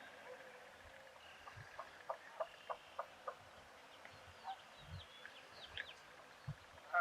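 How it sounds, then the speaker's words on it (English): Scattered bird chirps and calls ring out at a moderate distance by a lake at sunrise over quiet outdoor ambience, with occasional soft low thumps; no voices. "Lots of bird noise."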